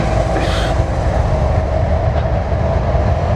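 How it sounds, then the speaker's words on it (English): A BNSF Railway train rolls past in Spokane with a loud, close, continuous rumble of railcars, steady wheel noise and faint clickety-clack throughout. "But we got this train."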